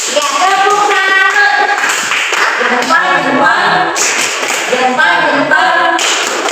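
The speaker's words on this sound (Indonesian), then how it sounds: "Tepuk tangan dulu, luar biasa. Ya, tepuk tangan." A group in a counselling session claps hands together, dense continuous clapping close and loud throughout, with voices calling out and singing-like tones mixed in over it.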